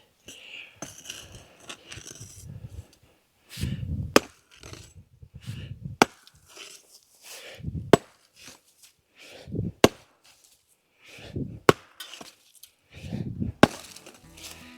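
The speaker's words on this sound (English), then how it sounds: "So with the tools that I have a rock bar and a rock mallet" Rock struck with a rock mallet on a rock bar while being split, sharp metallic clinks falling every couple of seconds, with low scraping and thudding handling sounds between them.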